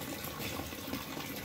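Water runs steadily from a bathroom in a continuous even rush, close and constant with no voices.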